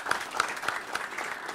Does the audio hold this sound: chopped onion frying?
no